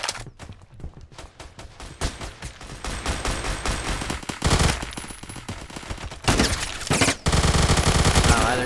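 Rapid automatic bursts from a Vector submachine gun in a video game fire in dense, loud volleys, with brief pauses between strings of shots.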